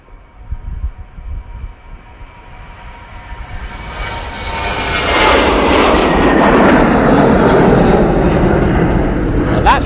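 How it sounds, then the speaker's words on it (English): An Airbus A321 jet takes off at Manchester Airport, its engine roar swelling from a low rumble into a loud, sustained broadband thunder that holds steady and close; a voice speaks briefly near the start. "Either that's a super D-rated takeoff or that is really heavy"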